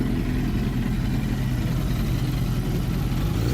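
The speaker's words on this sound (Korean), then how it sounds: "엔진 소리도 좀 거친 편이고" A cheap motorcycle engine idles roughly with a steady, coarse low rumble, loud and close throughout, with no voices.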